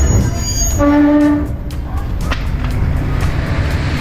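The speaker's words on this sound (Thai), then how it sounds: "ตอนนี้เรานั่งรถไฟมาถึงแล้วนะครับ" A loud train horn sounds briefly, then the train rumbles and clatters along the rails close by as it arrives at Hua Lamphong station in Bangkok.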